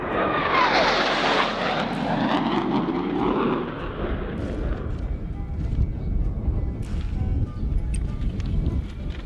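An F-15 fighter jet roars loudly overhead on a Marine training range, a sweeping broadband rush that peaks early then fades into a long rumbling wash as it moves away.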